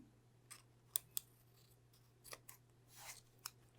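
Scissors snip through the overflow edges of a paper-covered cardboard book cover, a few sharp close cuts spaced irregularly over faint background noise.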